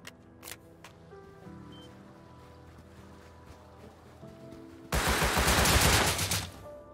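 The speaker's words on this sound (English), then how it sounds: "it sounded like an auto turret" Rapid bursts of auto turret gunfire from Rust Console Edition erupt loudly after a stretch of quieter ambient game sound, rattling for about a second and a half before cutting off.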